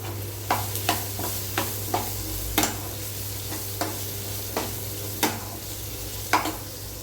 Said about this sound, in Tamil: நம்ம வெட்டி வச்சு நம்மளுடைய மாங்காவை போட்டு சூப்பராக வதக்கலாம்